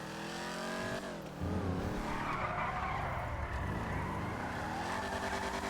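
A car in a GTA roleplay game skidding with screeching tires while its engine drives on, loud and sustained after a brief lull.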